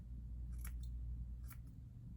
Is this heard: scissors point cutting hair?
yes